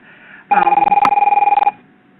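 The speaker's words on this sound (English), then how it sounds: "that's my phone ringing" A phone rings close by in one sustained burst of rapid electronic trills, about a second long, then falls silent, with no other sounds around it.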